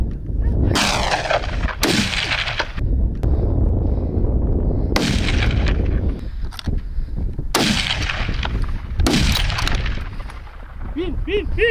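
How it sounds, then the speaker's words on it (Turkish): Loud, booming gunshots ring out during a wild boar hunt, about six blasts in irregular succession, each with a long rolling echo outdoors. "Bir tane daha vurdum Yaman."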